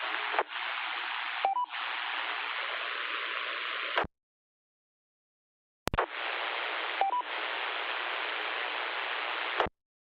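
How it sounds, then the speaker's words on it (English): Two bursts of hissy radio static, each several seconds long with brief clicks and tones inside, separated by silence and cut off abruptly at the end, as someone tries to key up a repeater during an amateur radio net. "It sounds like somebody's trying to get in a repeater."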